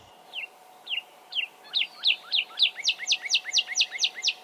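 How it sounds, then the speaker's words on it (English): A male northern cardinal, a resident songbird, sings a run of clear downslurred whistles that quicken and grow louder into a rapid, evenly spaced series, heard fairly close over a soft background hum, with no voices. "There are perhaps few resident birds more iconic than the male northern cardinal"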